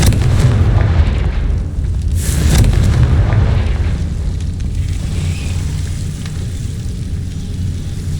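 A Confringo spell explosion from the video game Hogwarts Legacy, booming low and loud with a burst near the start, then a sustained rumbling roar that slowly settles over several seconds.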